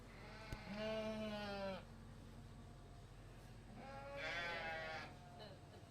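Sheep bleat twice at a livestock showmanship class, each call a drawn-out wavering cry, the first near 1 second and the second around 4 seconds, over a steady low background hum of the show ring.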